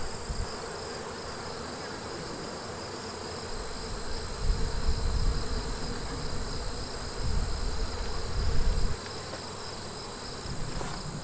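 Honeybees swarm around an opened, queenless hive full of swarm cells during an inspection, producing a dense, continuous buzzing hum nearby that swells louder in a few places.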